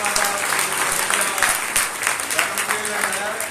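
A congregation at a Sunday service claps for a member's birthday in a loud, sustained round of applause, with voices talking over the clapping throughout.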